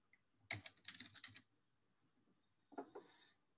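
Computer keyboard typing, a quick close burst of clicky keystrokes followed by a pause and a second shorter run of keys, faint overall.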